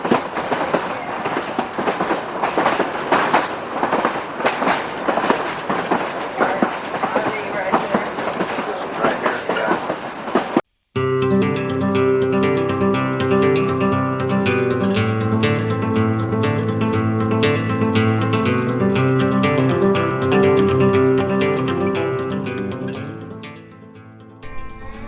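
The Durango and Silverton tourist train rolls along the rails with a loud, steady clatter of wheels on track. After a sharp cut, a busier mix of sustained tones and rumble carries on evenly before it fades out near the end.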